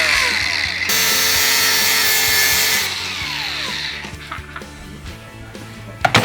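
Power tool cutting a part during a Toyota MR2 restoration, a loud continuous grinding whine for about three seconds that winds down, followed by quieter clatter and handling knocks.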